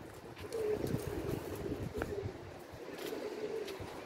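Pigeons coo softly nearby in repeated low, rolling calls over faint background noise.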